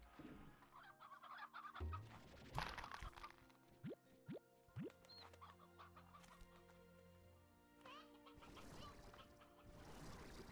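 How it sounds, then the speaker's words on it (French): Chickens in the video game Slime Rancher 2 clucking and squawking in busy bursts, with a few sharp rising calls and a louder flock chorus at the end. "Trop de poulet."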